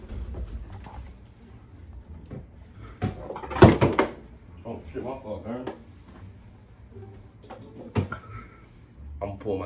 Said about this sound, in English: I'm gonna open the door, bro.